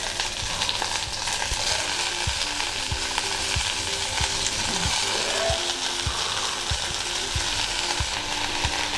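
Coriander leaves sauté in a pan over medium heat, giving a dense, continuous sizzle punctuated by regular spatula taps and scrapes against the metal.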